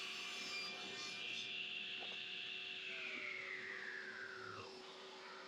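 A workshop dust collection system runs in a woodworking shop during doweling work, giving a faint, steady whooshing drone with a high airy hiss and a constant low hum, unbroken throughout.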